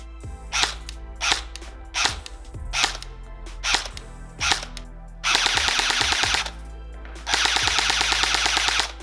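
A Cyma CM.515 airsoft replica fires BBs in a run of sharp single shots at an even rhythm, then two dense full-auto bursts of rapid clattering reports, loud and close with no talking.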